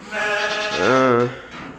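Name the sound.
sheep bleating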